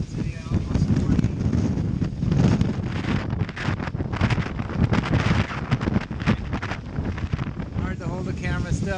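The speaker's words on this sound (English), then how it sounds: "with this much wind blowing through here" Strong wind buffets a boat during a severe thunderstorm with heavy rain, gusts approaching 40, roaring in loud, uneven surges that batter the microphone throughout.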